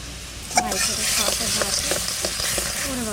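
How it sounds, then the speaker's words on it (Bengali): A cumin, salt and turmeric spice paste sizzles steadily in a hot pan for a village-style elephant foot yam and prawn dish, with light scraping from stirring through the constant frying hiss. "মশলা কষানো হয়ে গেছে"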